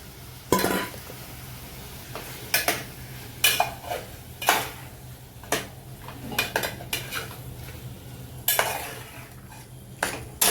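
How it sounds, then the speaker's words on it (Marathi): Yogurt-marinated vegetables for a spicy veg pulao sizzle in a pan while a spoon scrapes and clanks against the metal in repeated sharp strokes over a steady low fry. "तर या भाज्या मॅरिनेट करून घेतलेले ते घालून घ्यायचं"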